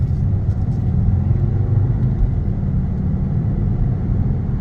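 A 2013 Volkswagen Beetle 2.0 TSI on the road gives a steady, loud, low engine and tyre rumble inside the cabin, constant throughout with no speech over it.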